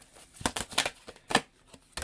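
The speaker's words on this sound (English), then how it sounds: "How about we'll shuffle like this instead?" A deck of tarot cards is shuffled by hand in a few quick, close bursts of riffling and slapping, with short pauses between them and no talking.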